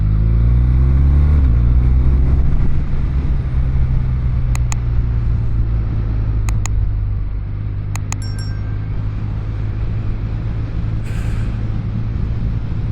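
A BMW R12 boxer-engine motorcycle on the highway, its engine droning loud and close as it accelerates with rising pitch, then settles into a steady cruise under heavy wind rumble, with a few light clicks.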